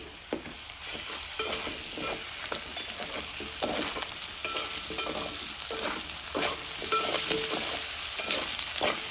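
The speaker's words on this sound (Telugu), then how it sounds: "ఒక అర స్పూను అల్లం వెల్లుల్లి పేస్ట్ కూడా వేసుకోవాలి ఒకసారి అయితే కలుపుకోవాలి" Turmeric and ginger-garlic paste are stirred in a frying pan, with a continuous low sizzle and repeated scraping strokes from the spoon, close by and alone without talk.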